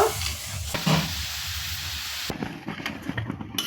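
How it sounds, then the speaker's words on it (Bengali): Milk with sugar cooks in a pan, giving a steady bubbling hiss, with soft scraping and tapping as a spoon stirs it. "এখন আমি চিনিটা দিয়ে এই দুধের সঙ্গে আর একটু আমি জাল করে নিব"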